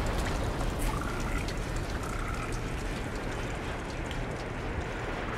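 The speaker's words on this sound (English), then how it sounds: "Alright, so it's still raining" Steady, quiet rain in LIMBO, a soft continuous hiss of falling water with no breaks and no other clear sounds.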